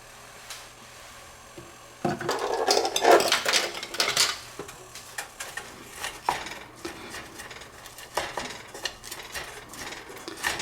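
Vegetables including onions and zucchini are stirred in olive oil in a pan, with close clattering scrapes and knocks of the utensil against the pan that start abruptly and continue in uneven bursts.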